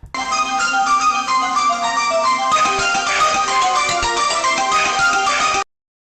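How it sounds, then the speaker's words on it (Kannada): A phone rings on an outgoing call, a loud, steady electronic ringtone melody that plays continuously for several seconds and then cuts off abruptly, with no talking. "ಅಲ್ಲೇ ನಂಬರ್ ರಿಂಗ್ ಆಗ್ತಿದೆ."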